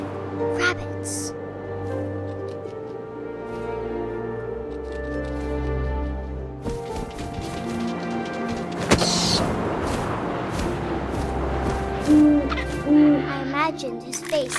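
In What Remains of Edith Finch, an owl gives repeated hoots over a backdrop of game music and wind, while a narrator talks throughout.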